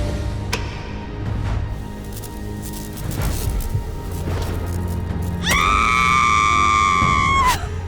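A woman lets out one sharp, sustained scream as a syringe full of blood is jabbed into her arm in an animated vampire story. The scream rises near the end, loud over a low background bed.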